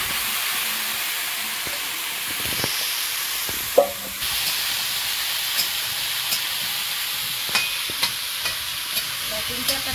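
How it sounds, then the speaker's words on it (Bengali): Fish sizzles in a hot pan with watermelon being added: an even frying hiss broken by occasional spatula scrapes and sharp ticks, one louder clatter midway. "এই মাছটা ভালো করে ভেজে নিচ্ছি"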